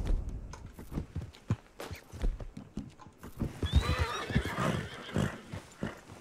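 Hooves clip-clop steadily at a walk, then a horse lets out a loud, shrill neigh close by, in the video game Red Dead Redemption 2.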